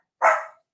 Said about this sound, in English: No need for any more barking.